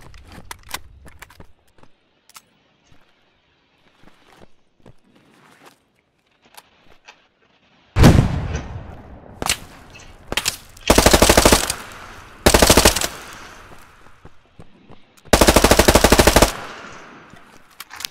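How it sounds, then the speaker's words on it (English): Gunfire in a tactical shooter video game: loud, close bursts of automatic fire and single shots, starting after a quiet stretch of faint distant pops and small clicks, with no talk. "We have somebody shooting at our teammate."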